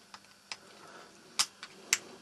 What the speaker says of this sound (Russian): Сначала необходимо добраться до платы управления этой гирлянды. Для этого аккуратно открываем корпус.